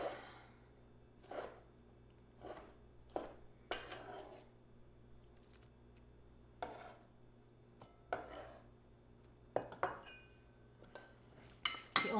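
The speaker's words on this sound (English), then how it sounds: "I think I better slice up a couple more tomatoes" A kitchen knife slices fresh tomatoes on a cutting board for a dulse, lettuce and tomato salad, giving scattered, separate crisp strokes with light clinks of dishes between them. The sound is close and quiet, with no talking.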